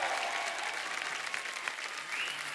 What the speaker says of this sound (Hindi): जोरदार तालियां नोरा के लिए।